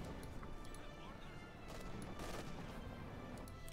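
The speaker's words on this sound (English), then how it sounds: "continuing straight through machine gun fire there, not looking too good for them" Machine gun fire in a WWII strategy video game with Panzer IV and IS-2 tanks, rapid distant bursts and crackling shots layered in a dense, noisy battle mix at low level.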